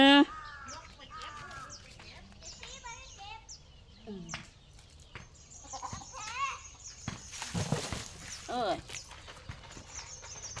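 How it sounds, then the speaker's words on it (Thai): Chickens cluck in a backyard garden, with scattered, varied clucks and calls at moderate distance and a person talking now and then. "ไก่มันดื้อ มันเข้าสวน"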